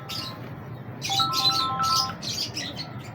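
Big breeder pigeons call in short chirps and squeaky bursts, close and fairly faint, over a low steady background.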